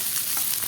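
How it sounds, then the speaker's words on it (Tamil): Chopped onion and green chili frying in a pan for a potato masala to go with chapati, a steady close sizzle with faint stirring over a short moment, no voices. "இப்போ நம்ம வெட்டி வச்சிருக்கிற வெங்காயம் பச்சை மிளகாய் போட்டு"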